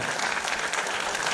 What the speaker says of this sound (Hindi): जोरदार करताली